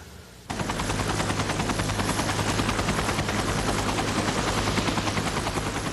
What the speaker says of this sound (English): Andrea was taken by life flight helicopter to Baptist Hospital